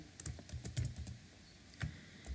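Typing on a computer keyboard while writing Java code, with soft, irregular close-up keystrokes in small clusters and a faint room hush between them.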